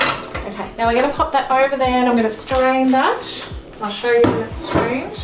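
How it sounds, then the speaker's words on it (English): Metal cooking pots clatter and clank in a home kitchen beside the sink while a colander of hot Swiss chard is strained, the knocks coming under steady nearby talk. "Excuse that noise from my pots."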